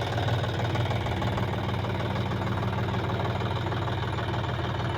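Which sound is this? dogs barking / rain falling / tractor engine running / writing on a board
tractor engine running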